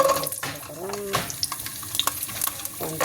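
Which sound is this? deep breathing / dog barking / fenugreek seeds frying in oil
fenugreek seeds frying in oil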